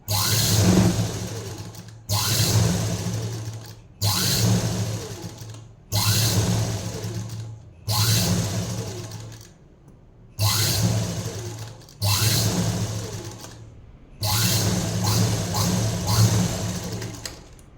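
A sewing machine stitches a single-folded fabric edge for a blouse neck design, whirring close and loud in eight even bursts of about two seconds each, separated by short pauses.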